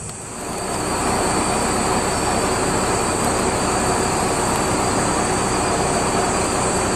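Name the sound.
Tsugaru Railway train arriving at a station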